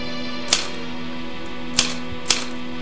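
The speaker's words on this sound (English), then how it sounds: "Love the sound of that typewriter. Nice and crisp." Three sharp typewriter key strikes, crisp and close, irregularly spaced over a steady low hum.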